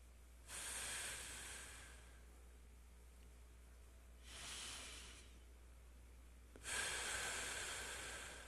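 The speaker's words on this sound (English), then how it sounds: "take a couple of deep breaths" Three long, deep breaths during a morning meditation at Temple Beth El of Hollywood, each a broad airy whoosh lasting about a second and a half, close and clear over a quiet low hum, with no talking.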